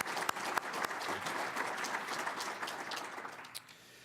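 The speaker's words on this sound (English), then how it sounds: "Please give a round of applause for our panelists and thank them for joining us today." Audience at a health IT panel session claps steadily for the panelists, a dense, even round of applause in a hall that tapers off near the end.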